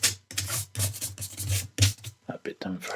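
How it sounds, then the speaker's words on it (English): An eraser rubs back and forth over pencil writing on the inside back page of a 1930s hardback book, making close, papery scrubbing strokes in quick repeated bursts with short pauses between them. "there's a bit of writing in the back there that we're going to need to rub out"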